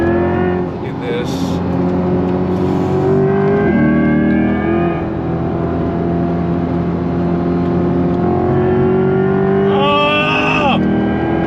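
A Chevrolet Corvette E-Ray hybrid all-wheel-drive sports car pulls hard on throttle, its engine droning loud and steady from inside the cabin, pitch climbing and shifting, while people speak and whoop over it.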